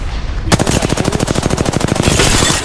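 Sustained automatic gunfire in a futuristic shooter video game, a loud rapid burst of evenly spaced shots close up that runs continuously and ends in a roaring wash.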